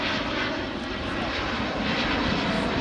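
An Airbus A350-1000 airliner roars past during a display flight at Farnborough International Airshow, a loud, steady jet-engine rush throughout.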